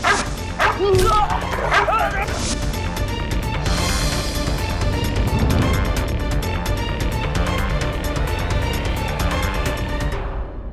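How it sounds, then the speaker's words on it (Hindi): In a courtroom drama scene, a dog barks and yelps in sharp bursts near the start, then whimpers. A dense mix of voices and other sound carries on beneath it until it cuts off. "एक कुत्ता।"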